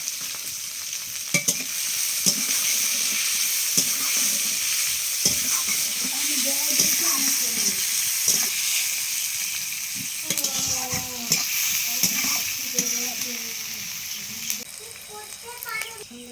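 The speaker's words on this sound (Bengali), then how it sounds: "তেজপাতা আর জিরে দিয়ে দিলাম, এরপরে পেঁয়াজ দিয়ে দিচ্ছি" Onion frying in hot oil with bay leaf and cumin, a continuous close sizzle with occasional stirring clatter, while people talk over it throughout.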